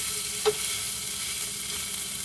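Chicken and red pepper toast in a lightly oiled skillet, giving a soft, steady sizzle with one brief clink near the start and no talking.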